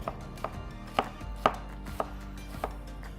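A knife slices very thinly on a cutting board while preparing ceviche, making about seven crisp, evenly spaced cuts roughly half a second apart, close and fairly quiet with no talking.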